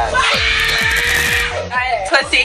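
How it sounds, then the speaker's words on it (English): A person screams loudly and continuously in a shrill, sustained wail behind a door, over a steady thumping beat, then breaks into shorter yelps and shouts. "Stop screaming or I'll bust the door down."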